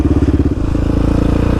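A Raptor ATV with a fresh graphics kit riding on its first outing in seven weeks, its engine putting out a loud, steady rhythmic chug close by with some clatter, with no talking.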